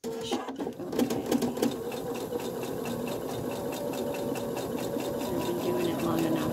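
Sewing machine stitching with its free motion foot removed, a continuous close motor drone with rhythmic needle clatter running steadily throughout, a few brief knocks near the start.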